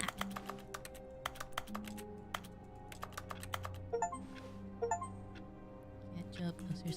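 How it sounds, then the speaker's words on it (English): In a desk-work video game, keyboard typing plays as a rapid, uneven patter of crisp clicks. A low hum sits under it, with short chime-like tones partway through and faint voices talking. "It's like keyboard clicks."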